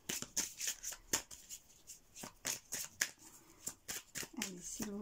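Tarot cards being shuffled and drawn during a reading, with a run of crisp flicks and slaps close to the mic while someone speaks softly between them.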